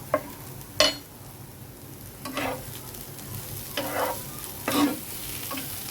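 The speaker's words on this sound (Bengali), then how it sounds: "এবার আরও ভালোভাবে নেড়ে দিব।" Bitter gourd fry being stirred in a pan with a spatula, five or six distinct scraping strokes spaced a second or so apart over a soft steady sizzle, close and clear with no voices.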